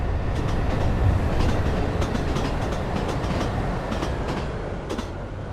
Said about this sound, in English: there is another train coming through